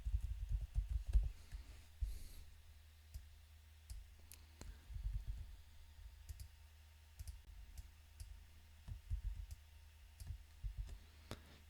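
A computer keyboard is typed on in quick, soft bursts of clicks with brief pauses between them, against a quiet background hum.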